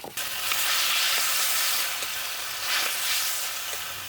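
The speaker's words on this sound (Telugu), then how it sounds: "ఇప్పుడు ఇంకో చెంచా నూనె వేసుకుని టమాటాలు వేసుకుని వేయించుకుందామండి" Tomatoes frying in oil in a pan for village-style bendakaya (okra) roti pachadi, a steady close sizzle that runs continuously with a few soft stirring clicks and no talking.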